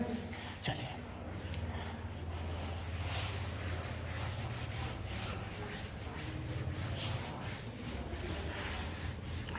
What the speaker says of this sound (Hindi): रब कर लें इसको जल्दी से